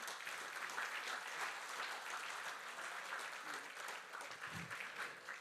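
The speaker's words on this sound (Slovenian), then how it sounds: "En aplavz za naše upokojence." An audience applauds the municipality's pensioners at a municipal holiday ceremony in Moravske Toplice, steady crowd clapping heard at a moderate distance and fairly quiet, holding on evenly without talk.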